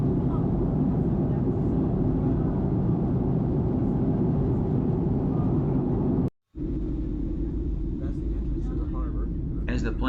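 An airplane in flight approaching San Diego, heard as a loud, steady low cabin rumble throughout with one brief dropout; faint voices break through near the end.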